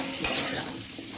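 Taro and potato pieces sizzle steadily in hot oil with a bay leaf and green chilli, with a spoon stirring through them in one short burst near the start; a brief, close frying sound with no talk.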